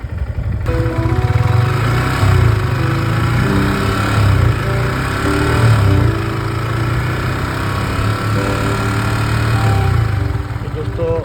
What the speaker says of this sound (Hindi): उसके बाद भी डाउन रेस में ही इंजन को चालू रखना है, ताकि उसको जो प्रॉपर टेम्परेचर चाहिए वो उनको मिल जाए।